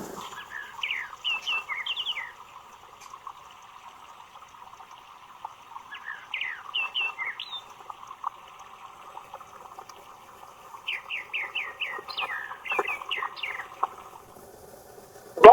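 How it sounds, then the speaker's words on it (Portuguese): Mockingbird singing quick, high trilled phrases in clustered bursts with pauses between, over a steady, low, watery hiss in the background. "Agora veja o canto do sabiá da praia."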